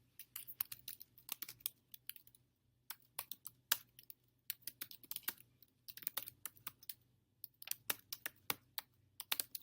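Rapid, irregular clicking of keys on a computer keyboard, typed in short bursts with brief pauses, close and fairly quiet.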